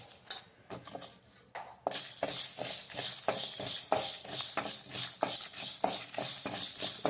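Coriander seeds rattle and hiss dryly in a pan, about three spoonfuls, roasting for sambar, quiet at first, then steady scraping and stirring with frequent clinks against the metal.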